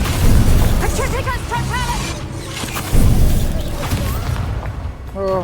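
Blast spell explosions in a fantasy video game, several booming bursts at about 0.3 s, 3 s and 5 s over busy game sound, with whooshing magical effects between them and speech-like game voices in the mix.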